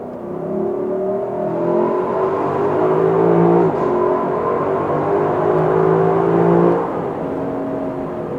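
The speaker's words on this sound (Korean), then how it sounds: "여기서 짧게 스포츠 플러스에서의 RPM을 한번 들려드릴게요." Lexus LC500 convertible with a naturally aspirated 5.0-litre V8 revs in Sport Plus mode, a loud, close engine note that climbs and falls in pitch across several rises, with no voices.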